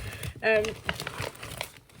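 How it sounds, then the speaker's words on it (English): Crinkly rustling from handling bags of raw alpaca or Romney wool locks before spinning, close and fairly soft, broken into short bursts with a voice chiming in between. "Sorry about the rustling."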